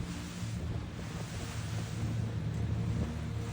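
Choppy, wavy water on the Great Lakes, a continuous broad rush of surf mixed with heavy wind buffeting, steady and loud with no voices.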